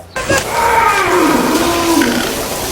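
Large cattle at a livestock market give one long, loud moo that rises and then falls away, heard close and clear.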